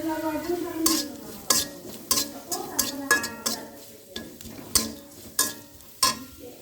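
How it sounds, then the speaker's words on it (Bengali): Onion and green chili fry in hot oil in a pan with a soft sizzle, broken by a series of sharp scraping and clinking strokes of a spatula against the pan, close by. "পেঁয়াজটা দিচ্ছি কাঁচামরিচ দিয়ে দিছি তেলের মধ্যে"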